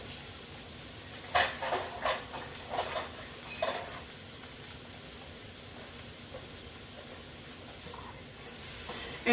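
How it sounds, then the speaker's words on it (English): Red onion sautéing in a pan on a home stove, a steady faint sizzle with a few louder stirring scrapes and clatters early on, then quieter even frying. "let this cook down, basically like a sauteing"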